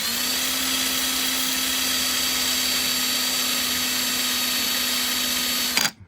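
A power drill running in reverse to strop a carving knife whirs steadily at constant speed with a high motor whine, then stops abruptly at the end.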